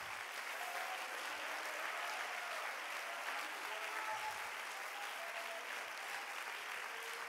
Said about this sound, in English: Clap your hands unto the Lord right now and shout unto God.